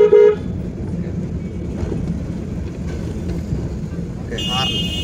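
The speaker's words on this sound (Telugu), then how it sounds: "Okay right horn okay horn వెళ్ళిపోవచ్చు." A car horn toots briefly at the start and again near the end while driving through city traffic, over a steady rumbling road and engine noise.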